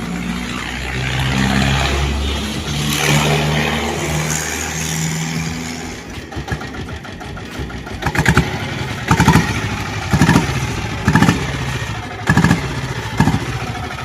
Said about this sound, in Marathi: तर तुम्ही बघू शकता अशी आपण डिझेल बुलेट चालू केलेली आहे.